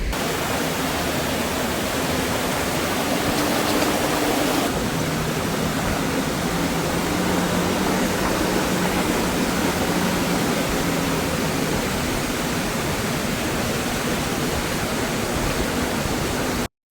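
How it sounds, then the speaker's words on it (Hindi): A mountain stream fed by Andrab Lake in Kalam rushes in a loud, continuous broadband roar, steady and close throughout with no pauses. "ये जो पानी है ये सारा का सारा अंदराब लेक से आ रहा है।"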